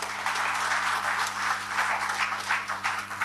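An audience claps continuously at a company event honouring a woman director, a steady fairly loud wash of applause with a low electrical hum underneath and no talk.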